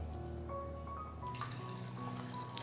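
Water is poured into an ice-apple summer drink, a steady close trickle and splash that grows brighter and fuller partway through, with no talk over it.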